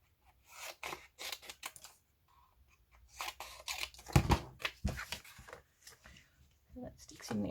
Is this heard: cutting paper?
yes